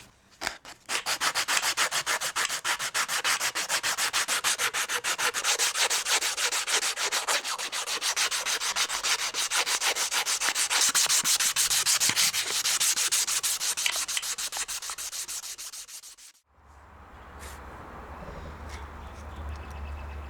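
A knife handle is sanded by hand with 180 to 600 grit sandpaper, giving continuous fast, close rasping strokes for about sixteen seconds before stopping abruptly, followed by a low hum.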